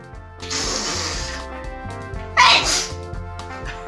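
A single loud sneeze bursts out during a burping contest, with a second sharp sneeze-like blast following a moment later, close by over a low background hum.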